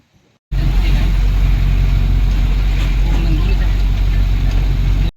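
Band vehicle carrying four musicians driving on a road near Amalner, a steady loud engine drone and road rumble holding throughout after a brief quiet start, with faint talk underneath.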